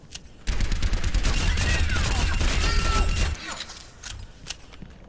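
Rapid rifle gunfire in Overwatch aimed at a training bot, a dense automatic burst of close, loud shots lasting about three seconds, then a few scattered single shots and clicks.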